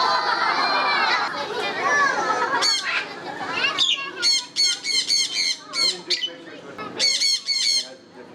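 Loud, harsh bird squawks burst in a rapid series of repeated calls, following a stretch of mixed chatter and voices nearby.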